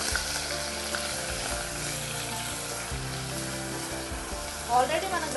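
Onion fries in hot oil with cumin seeds already in the pan, a dense steady sizzle with low rumbling undertones and a brief louder burst of spattering near the end.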